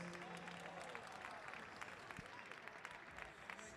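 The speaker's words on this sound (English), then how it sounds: "Let's get another round of applause for all of our Masters Men 45 plus Madison" Applause for Masters Men 45-plus Madison champions at a USA Cycling track national championship, a faint, steady patter of clapping from a distant crowd in a large arena.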